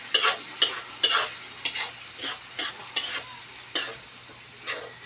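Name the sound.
hotdog being sautéed in pan for spaghetti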